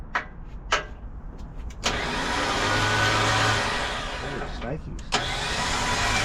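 A dual speed winch on a red OBS reels in cable with a loud, steady motor whine lasting several seconds, preceded by short clicks and followed by a brief clunk, under occasional speech.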